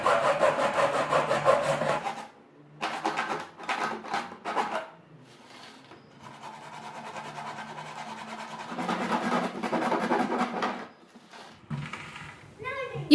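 Hacksaw blade working around an old plastic water can to cut it into a round shape, heard as bursts of rasping back-and-forth strokes separated by pauses, fairly close and moderately loud.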